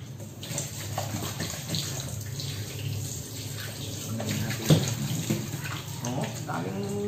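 Water running steadily from a tap while raw pork belly is rinsed for lechon, with splashing handling noises and a brief louder knock.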